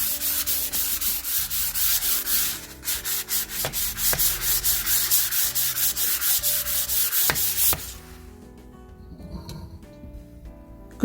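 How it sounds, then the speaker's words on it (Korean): Sandpaper rubbed along the grain of solid wooden furniture during DIY finishing, rapid rhythmic back-and-forth scratching strokes, close and fairly loud, stopping abruptly and leaving quiet handling noise. "결 방향으로 사포를 내주셔야 됩니다"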